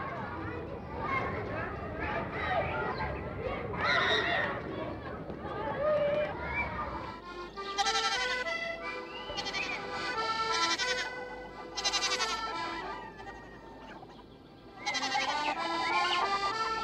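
Goats bleat in a small allotment garden, with several wavering calls standing out over a busy background of voices and other farm sounds. People are talking throughout.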